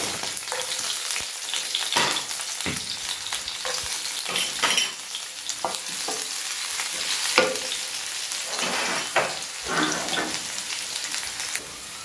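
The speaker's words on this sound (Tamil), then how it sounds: "பொடியாக நறுக்கின பூண்டை சேர்த்துக்கிறேன்." Chopped garlic frying in oil with ginger for chilli parotta, a steady crackling sizzle close up, with stirring scrapes breaking through now and then.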